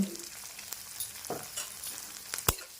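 Fenugreek-leaf yogurt curry with turmeric and salt being stirred in a pan, a soft sizzle under a few scraping spoon strokes, with one sharp clack against the pan near the end.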